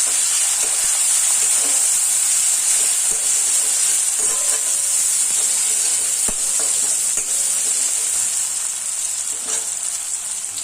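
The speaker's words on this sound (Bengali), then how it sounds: "ওই তেলেই কালো জিরে ফোড়ন দিলাম, তারপর পেঁয়াজ কুচি দিলাম" Steady loud sizzling of chopped onions and nigella seeds frying in hot oil, with occasional stirring clicks and scrapes, continuous throughout without voices.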